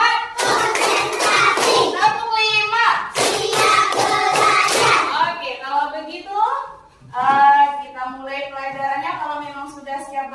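A classroom of pupils doing a rhythmic counting clap routine, bursts of hand claps alternating with a woman and children chanting loudly between the claps.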